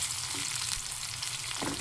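Cumin, mustard seeds, dried red chillies, curry leaves, urad dal and crushed garlic frying in hot oil for a tempering, a steady close sizzle with faint stirring throughout.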